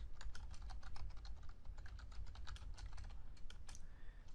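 Rapid, steady typing on a computer keyboard while entering PL/SQL code, with crisp close-up key clicks in an irregular rhythm and no talking.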